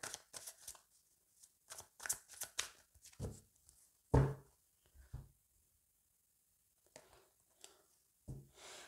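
A deck of tarot cards being cut and shuffled makes a run of short, crisp riffling flicks and slaps, close and fairly faint, in uneven bursts separated by near silence.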